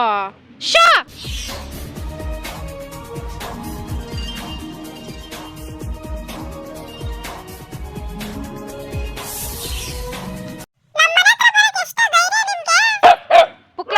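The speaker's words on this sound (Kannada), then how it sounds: "ಏ ಇಷ್ಟಪ್ಪ ನಾಯಿಗಳು" Dogs bark at a rural home, with sharp close yelps at the start and a cluster of barks near the end. A long stretch of other household sound sits between them, and a person talks at times.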